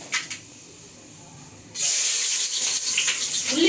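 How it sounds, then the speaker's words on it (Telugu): Mustard seeds hitting hot oil for pesarattu upma, bursting into a loud, steady hiss and sizzle after a quiet start, close and sustained. "నేను ఆవాలు వేసుకున్నానండి."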